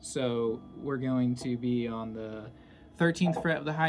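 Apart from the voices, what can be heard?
No everyday noise stands out behind the speech.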